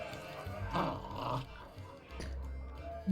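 A dog growls in Sea of Thieves with low, rumbling snarls in short bursts, close and fairly loud, followed by a brief louder snort at the end.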